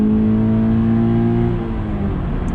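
A 2019 Toyota 86 GT sports car engine revs loudly. A strong low tone climbs and then eases off as the revs drop toward the end, with no one talking.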